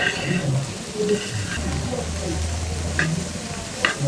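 Chicken and potatoes being stirred in a pot with chili powder and turmeric, a continuous low sizzle with soft scraping strokes and occasional clinks, close and moderately loud, faint voices underneath.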